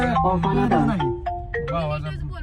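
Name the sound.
phone ringtone, incoming call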